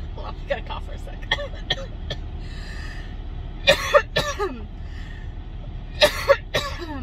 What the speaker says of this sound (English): I've got to cough for a sec.